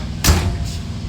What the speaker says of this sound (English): And this little door here pops up and slides back.